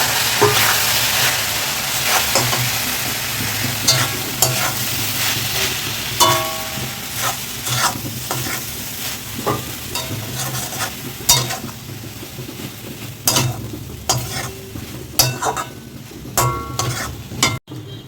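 Soya chunks fry in spiced oil in a wok, with a steady loud sizzle and hiss throughout and repeated scraping clicks of a utensil stirring against the metal, close up and with no talking.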